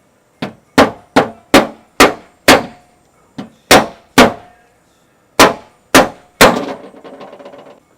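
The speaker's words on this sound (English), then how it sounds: "we're going to take a hammer and we're going to hit these 4" A hammer strikes metal car parts about a dozen times in an uneven rhythm, each blow a loud, sharp clang that rings briefly before the next.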